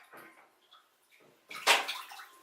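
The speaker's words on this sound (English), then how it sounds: "I'm in here in the Chelsea's taking a bath, so I'm sorry it's a little loud" Water sloshing and splashing in a young child's bath, soft movements early on building to a louder, closer splash burst near the end.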